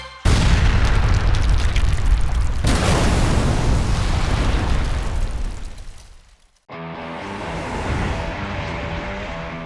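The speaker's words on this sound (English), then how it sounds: "We are going to connect the explosive device to the trigger line in order to detonate the explosives." Dynamite blast tearing through a mountain outside Requejo, Spain, to open a new railway tunnel: an abrupt, loud, broad roar that holds for several seconds, fades, then gives way to a steadier tonal sound.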